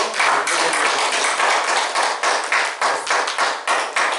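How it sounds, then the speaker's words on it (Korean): Congregation clapping during a Sunday church service, a close, fairly loud burst of many hands applauding with an uneven pulsing rhythm that swells and dips repeatedly, no talk over it. "우리 한번 힘내시라고 한번 박수로"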